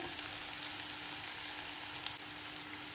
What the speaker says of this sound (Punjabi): ਲਸਣ ਅਦਰਕ ਤੇ ਪਿਆਜ਼ ਨੂੰ ਅਸੀਂ ਭੁੰਨ ਲਿਆ ਹੈ